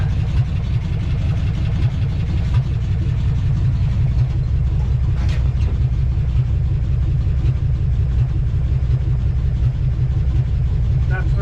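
Old 35-year-old Chevy engine idling steadily after being brought back to life, a loud low rumble running continuously and close.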